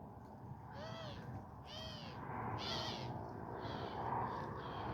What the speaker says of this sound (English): Oh my god, the doves are so annoying.